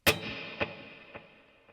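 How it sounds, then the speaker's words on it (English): A clean electric guitar plays with hall reverb and a dotted eighth delay: one plucked note is followed by fading echo repeats spaced evenly about half a second apart, under a long reverb tail, quiet and alone. "I have a dotted eighth delay that's low in the mix but with high repeats,"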